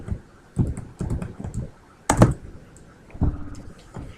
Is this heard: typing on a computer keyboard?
yes